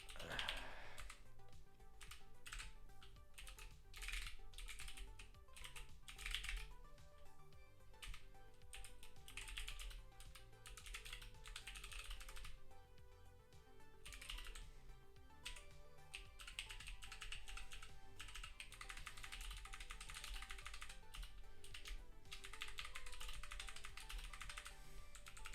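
Rapid typing on a computer keyboard while coding, with clicky keystrokes in bursts and short pauses, close and fairly quiet, continuing steadily throughout.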